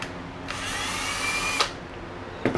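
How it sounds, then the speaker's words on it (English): A power drill whirs steadily for about a second while drilling through PVC, cuts off with a click, then starts again briefly, close by. "I'm going to drill this hole"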